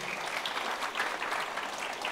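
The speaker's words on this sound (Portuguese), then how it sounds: "Dá uma salva de palmas para o Senhor, gente." A church congregation claps together in a dense, steady burst of applause that holds at an even level from start to finish, with no talking over it.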